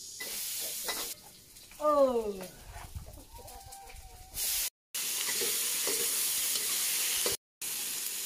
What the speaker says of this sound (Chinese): 先把这个猪肉炒一下